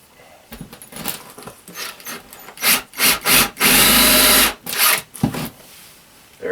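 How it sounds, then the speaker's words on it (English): Power drill boring through wood during an off-grid tiny home composting toilet install; short bursts of drilling build to a sustained loud grind, then stop and restart, close by with no talk. "I sometimes wish the drill bit on that was longer."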